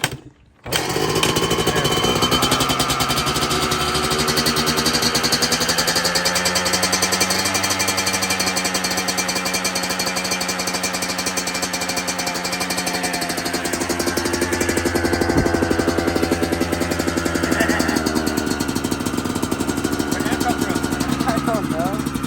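A Yamaha YZ125X two-stroke dirt bike engine, mid-rebuild, fires and keeps running with a loud, steady buzzing idle that wavers slightly in pitch, with brief talk over it.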